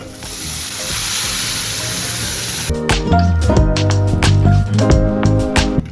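A steady hiss gives way to loud, bursting sizzles as cooked spinach and dal hit a hot pan, crackling and spattering close by, with stirring clatter.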